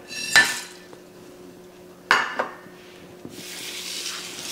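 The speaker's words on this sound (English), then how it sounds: "whisk it around in the water so it dissolves in the water" A whisk clatters against the side of a metal pot of water holding ham hocks as seasoning is stirred in, giving two sharp metallic strikes and a few lighter taps before a soft, steady swishing takes over, close and without talk.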